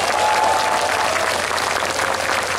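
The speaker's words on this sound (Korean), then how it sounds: "자, 멋진 무대 선사해 주신 두 분께 다시 한번 큰 박수 부탁드립니다." Audience at a concert applauding after a stage performance, a full, steady roar of clapping from a large crowd throughout, with a faint held tone at the start.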